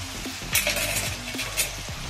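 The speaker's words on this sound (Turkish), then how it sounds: "Şöyle karıştıralım." Beef kavurma stirred in a frying pan as its juices cook down into fat: a steady close sizzle with utensil scrapes and knocks against the pan, no one speaking.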